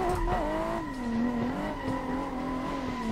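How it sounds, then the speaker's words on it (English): Race cars in the driving game Assetto Corsa run close together in a tandem, engine tones rising and falling with tire squeal and skidding, loud and continuous with no talk. "We got two cars behind us, one in front of us."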